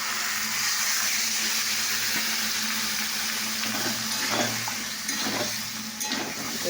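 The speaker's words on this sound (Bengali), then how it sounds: "এবার আমি জল দিয়ে দিলাম।" Water goes into a hot pan of vegetarian curry with chilli, bringing a loud, continuous hiss and bubbling sizzle that holds steady and then eases slightly, with no talking.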